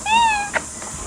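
A person imitates a cat's meow: one drawn-out, wavering mew that rises and falls, followed by a brief sharp squeak and faint softer noises, close and clear in a quiet setting.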